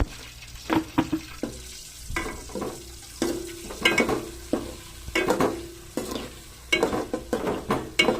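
Boiled eggs with holes poked in them fry in oil with turmeric and chili powder, stirred in a pan, giving bursts of sizzling and clattering scrapes in an irregular rhythm, close by, with no talking.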